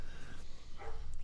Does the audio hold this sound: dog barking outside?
yes